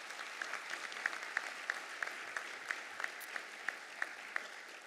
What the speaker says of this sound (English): Let's give our North Carolina legislature a round of applause